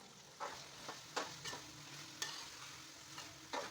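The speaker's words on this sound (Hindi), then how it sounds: "अब हम इसमें मटर डालकर इनकी अच्छी तरह से बुनाई करेंगे।" Green peas being stir-fried in a pulao pot for aloo matar pulao, with a steady background sizzle broken by several sharp scraping bursts of a spoon against the pot, close and fairly loud.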